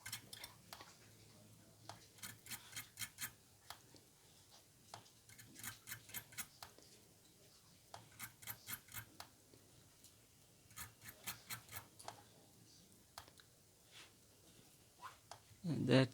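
Short bursts of fine metallic scraping come from a tool raking a vape coil on a Digiflavor Drop Solo RDA, repeated in quick clusters close up with quiet gaps between.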